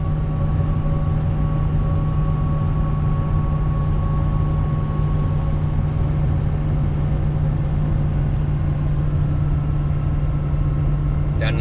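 A truck engine labours up a hill in 8th gear while towing 30,000 lbs, a loud, steady drone with a low hum that holds evenly throughout, with no talking.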